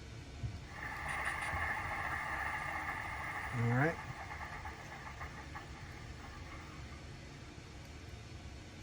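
A model New Haven railroad locomotive starts up on a layout, giving a steady electronic hum that ends in a short rising swoop, while a voice speaks briefly nearby.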